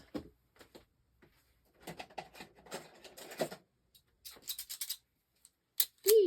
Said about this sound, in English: Let me cut it off with my other scissors.